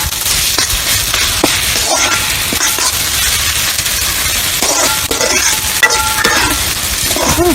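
Tomatoes sauté in hot oil in a pan for Chettinad chicken gravy, a loud, continuous sizzle with frequent scraping and stirring strokes of a spoon, close up and without talk.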